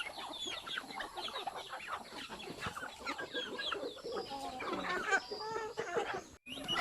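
Free-range heritage chickens on a farm, a flock clucking and chattering continuously at close to middle distance, with overlapping calls and a few louder squawks.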